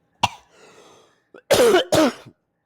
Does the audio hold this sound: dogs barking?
no